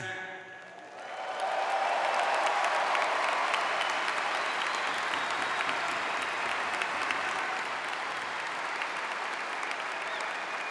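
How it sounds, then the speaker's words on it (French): A hockey arena crowd erupts in loud, sustained cheering and applause for Guy Lafleur's 100th goal, starting quietly then surging into a roaring wall of clapping that holds steady. "La foule est en délire."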